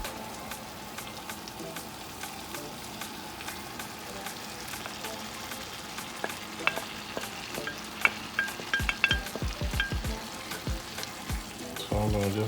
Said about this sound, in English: So it's been sauteing with the saltfish for about 8 minutes.